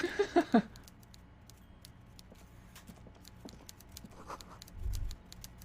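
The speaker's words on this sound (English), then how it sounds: "Ooh, typewriter." Typewriter keys clatter in a quick burst of four or five crisp strikes in the Disco Elysium video game, followed by faint scattered clicks over a quiet background hum.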